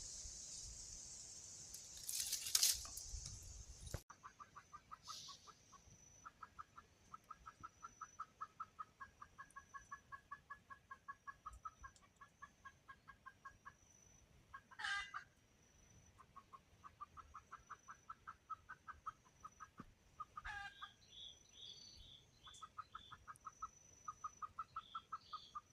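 Jungle fowl in the early morning: faint, rapid rhythmic clucking repeats in bursts, with a short louder crow-like call near the start and occasional sharp bird calls, fairly distant and quiet, with no talk.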